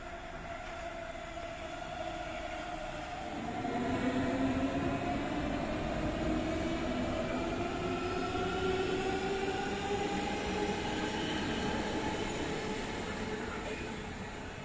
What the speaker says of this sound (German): Die nächste S-Bahn fährt ein.